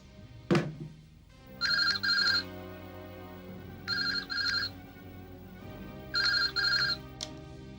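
A telephone rings in three double-burst rings spaced evenly apart, clear and moderately loud over a low background hum, with a brief knock near the start and no talking, in a classic Hindi TV drama.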